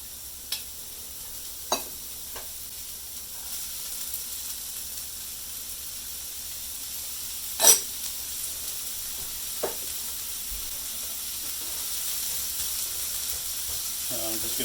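Onions cooking in hot oil give a soft, steady sizzle near the mic, with a few sharp clicks and clatters scattered through.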